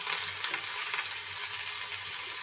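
Peas and other vegetables for a cauliflower-potato sabzi frying in a pan, a steady close sizzle with soft hiss and faint stirring, continuous throughout with no talking.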